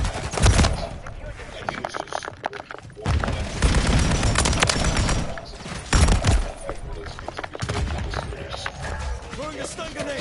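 A stun grenade bangs amid loud, choppy gunfire in Modern Warfare III, with bursts of shots separated by short lulls, and a voice talks over the action.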